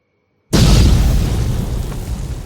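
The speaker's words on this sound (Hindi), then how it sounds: "और इसी पल गूंज उठा भीषण विस्फोट।" A huge explosion bursts in after half a second of silence, a loud, deep boom that rolls on and slowly fades without dying away.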